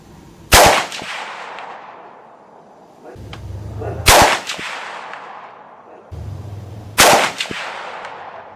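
A scoped Mosin rifle fires three shots at 100 yards, each a sharp, loud crack followed by a decaying echo, spaced about three seconds apart, with bolt-cycling noise between shots.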